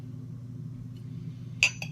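A metal household spoon clinks once sharply against a beer glass, followed by a softer second tap, over a quiet low hum.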